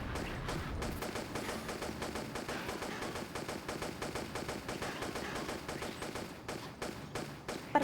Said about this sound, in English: And now I'm just hitting with one pistol.